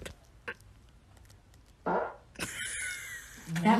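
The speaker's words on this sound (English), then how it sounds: "date ending fart." A close, loud fart: a short low puff followed by a longer, raspy, sputtering blast, heard after a brief quiet pause.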